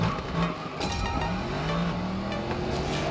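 A Mercedes SL63 in the mobile racing game Racing Master accelerates hard, its engine note climbing steadily in pitch through a sustained roar, with shifts audible along the way.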